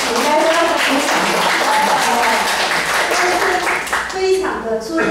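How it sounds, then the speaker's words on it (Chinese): A church congregation applauds in a sustained burst of clapping lasting several seconds, dense and loud, with voices mixed in beneath it. "应该要鼓掌"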